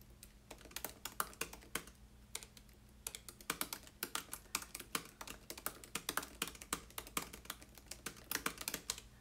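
Quick, uneven clatter of fingers typing a message on a computer keyboard, close and fairly quiet, with brief pauses between bursts of keystrokes and no talking.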